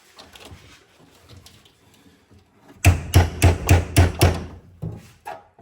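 A hammer beats a steel boat side panel on a Jeep YJ during a Motobuilt boat side kit install: six loud, evenly spaced metallic blows in quick succession, then a couple of softer knocks, after a stretch of quiet shop clatter.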